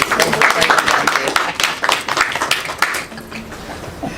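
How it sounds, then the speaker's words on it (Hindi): An audience claps together at a Hindu spiritual discourse on the Ram Mandir, a dense patter of hands that fades over about three seconds and leaves quieter room noise. "ताली बजा दो सब लोग।"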